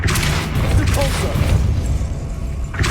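A Depulso force spell is cast in Hogwarts Legacy with a dense whooshing blast and low rumble, followed by a fainter burst near the end, all loud and close.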